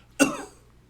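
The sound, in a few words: cough in a video game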